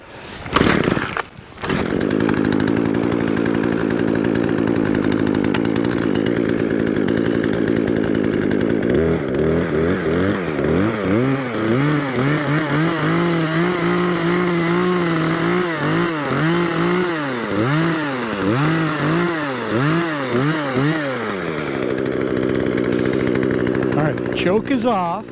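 A broken chainsaw's engine runs loud and close after a cold start, idling at first, then revving up and down in repeated surges before settling back to a steady drone.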